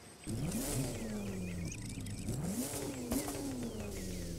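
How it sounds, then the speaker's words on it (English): A 1961 Jaguar E-Type engine in The Crew 2 fires up and revs, rising in pitch several times before settling into a steady drone, loud and close with no talk. "Let's start it up."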